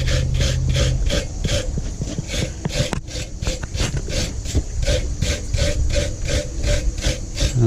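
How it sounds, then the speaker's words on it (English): A brass brush rubs rhythmically over a hot forged troll cross at a blacksmithing demo, giving a steady run of close, raspy scrubbing strokes, roughly one or two per second, with a low hum of forge noise behind. "So what we'll do now is get our brass brush and give it a little bit of a burnish like that."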